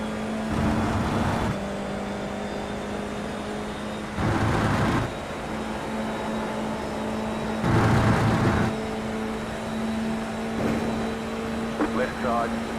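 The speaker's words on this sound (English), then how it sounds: "you hear the car through the microphone a bit" In the racing simulator iRacing, a race car engine drones steadily with a tonal hum, swelling in several short louder bursts as it revs and passes.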